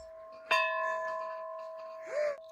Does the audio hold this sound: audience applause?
no